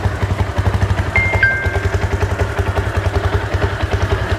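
A used 150cc motorcycle with 32,000 km on it, in good condition, idles up close at a second-hand bike market in Tamil Nadu. The engine thumps in a steady, even rhythm throughout, with no talking.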